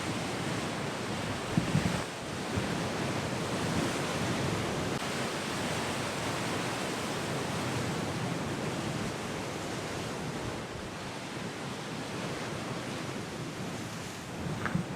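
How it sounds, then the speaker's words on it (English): Strong wind rushes across a clifftop coastal path while waves break below. The roar is broad and continuous, with a few gusty buffets on the microphone. "and it's a very windy day."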